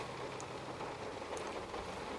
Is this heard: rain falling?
yes